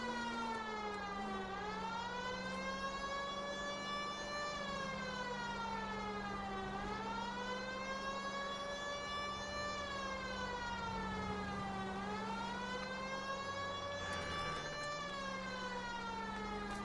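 Police car sirens wail in the 1940s Los Angeles crime game LA Noire, a steady rising and falling cycle repeating over a low engine drone, fairly faint and distant.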